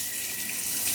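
A brushed nickel kitchen faucet pours a steady stream of water into a sink, a close, constant hiss and splash that stays even throughout with no talking.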